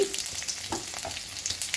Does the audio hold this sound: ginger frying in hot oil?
yes